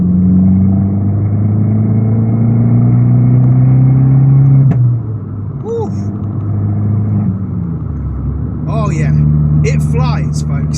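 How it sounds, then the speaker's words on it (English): An Abarth engine with a vent filter pulls hard in third gear, a loud close drone rising steadily, then easing off. Faint chirps and squeaks follow near the end, and there is no talk. "So we're going to do third gear because that's the gear I want to experiment in the most"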